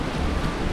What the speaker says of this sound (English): the rain has hit us hard